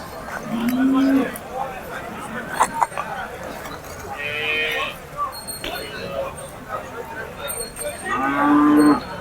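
Punganur cows moo loudly several times over a busy cattle market backdrop, with people talking nearby and occasional clinks.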